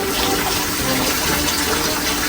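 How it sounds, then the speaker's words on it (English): Water gushes steadily into a cooking pan while curry chicken rasta pasta is made, a loud close continuous pour with no talk over it. "put a little bit of water"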